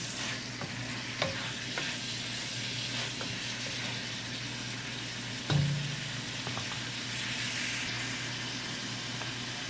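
Chili is stirred in a frying pan of sizzling oil for beef noodle soup, with a steady hiss and occasional scrapes and clinks from the utensil, including one louder knock midway.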